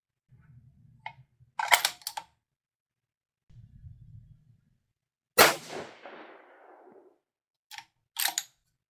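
Rifle shots from a 6 GT firing 112-grain Match Burner bullets with Staball 6.5 powder, a few sharp loud cracks with a ringing decay, one especially strong report midway, spaced apart amid quiet.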